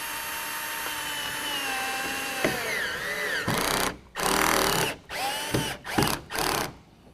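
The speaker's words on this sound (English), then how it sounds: "we're going to be drilling the self-tapping screws through the canister bracket into" A power drill whines through a long run, then stops and restarts in several short bursts as self-tapping screws are driven through a tonneau cover canister bracket into a housing bracket on a pickup truck, close and loud.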